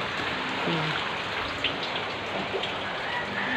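Steady typhoon rain falls with some wind and patters on a surface, a continuous hiss with no voices.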